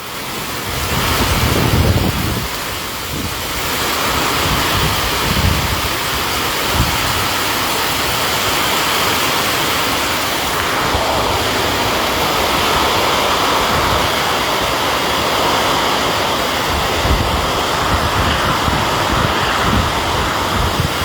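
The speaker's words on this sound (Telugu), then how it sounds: "మొదటి భారీ వర్షం అండి" Steady, dense broadband hiss of heavy rain pouring without pause in Palakollu, India, loud and close, with a brief louder swell near the start.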